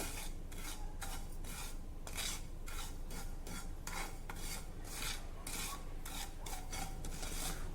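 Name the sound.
dry roasting ajwain (carom seeds) in a pan on low flame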